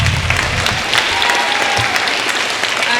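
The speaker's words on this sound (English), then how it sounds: "Special clap for all of them." An audience at an inter-school declamation event gives steady applause to new student speakers, a dense continuous clapping that fills the room from start to finish with no talking over it.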